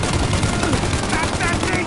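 Dense rapid gunfire in Mafia: Definitive Edition, continuous bursts of machine-gun and rifle shots filling the scene at close range, with shouting voices mixed in over the shooting.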